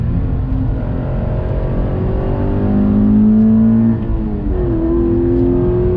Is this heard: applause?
no